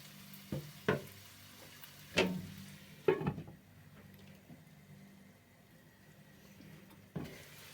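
Garlic scapes with egg frying in a pan, a soft low sizzle punctuated by a few distinct knocks and scrapes of stirring spaced a second or more apart.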